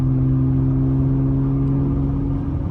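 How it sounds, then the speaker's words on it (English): A 1992 Acura NSX with a five-speed gearbox drones steadily and loudly through its muffler, a close, even engine hum with no clear rise in revs. "The muffler sounds really good."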